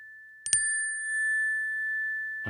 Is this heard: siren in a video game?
no